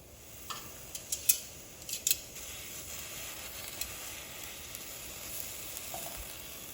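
Udon noodles searing cut side down in a hot pan give a faint, even sizzle, broken early by a few sharp ticks and clinks before settling into a soft continuous hiss.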